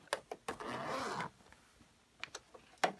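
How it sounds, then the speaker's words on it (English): A zipper on a carry-all bag being sewn slides open in one short, soft rasp, with faint clicks before and after in a quiet room. "open your zipper again"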